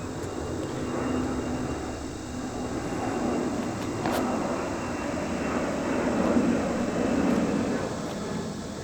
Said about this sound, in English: I just waited for the airplane to go over